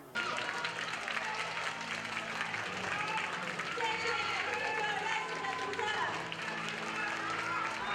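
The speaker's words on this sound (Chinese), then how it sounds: "就受到乡亲热情的掌声欢迎" Crowd applause at a book signing event in Tainan, steady continuous clapping from many people heard throughout, with chatter mixed in.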